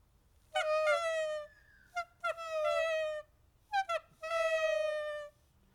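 A person imitates a dove call with three bright, nasal, drawn-out hoots, each sliding slightly in pitch and separated by short pauses, heard up close.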